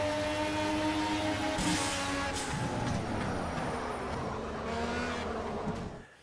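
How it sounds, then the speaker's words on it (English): Car engines in the Project Cars racing video game, a continuous droning whine with shifting pitch and occasional surges, steady and fairly loud throughout before cutting off at the end. "here I've got one of my favorite games, Project Cars."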